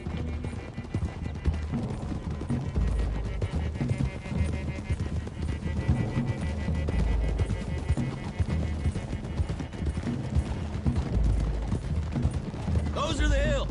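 Horse hooves trotting in Red Dead Redemption 2, a steady rhythmic clip-clop running throughout under low rumbling ambience and someone talking.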